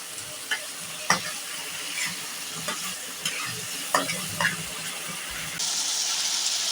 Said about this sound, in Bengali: এখন আমি মাছগুলো ভালো করে কষিয়ে নেব